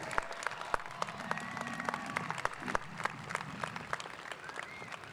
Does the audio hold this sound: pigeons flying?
no